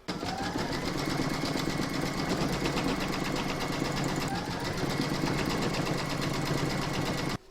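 An embroidery machine stitching the second round on fabric in the hoop for a Christmas coaster, a steady fast mechanical rattle running continuously and loud, close by, with no talking.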